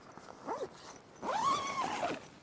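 A fabric zipper on an OPENROAD side wall is pulled, first a short quick zip, then a longer, louder drawn-out run along the track, close and clear with no talking.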